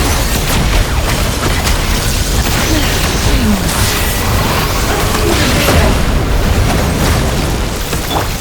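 Bombs going off in a Genshin Impact battle, a dense, loud wall of blasts and rumbling bursts that roll on continuously without a break.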